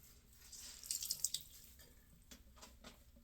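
Tap water runs and splashes faintly into a sink as soap is rinsed off a face, with brief louder splashes partway through.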